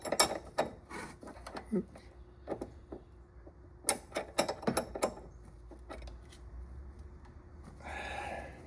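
A ratchet snugs up a rear shock mount bolt on a 2009 Saab 9-3 Aero XWD, giving a few bursts of close metallic clicks with clanks between them and a brief spoken exclamation.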